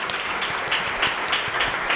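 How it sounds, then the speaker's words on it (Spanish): An audience breaks into applause, a dense, steady patter of many hands clapping at close range for about two seconds, with no voices over it. "Les quiero pedir un aplauso para Victoria, por favor"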